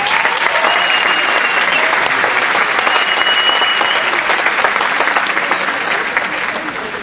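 Audience at a graduation ceremony claps loudly and continuously for several seconds, a dense, even roar of hands with faint voices mixed in, tapering slightly at the end.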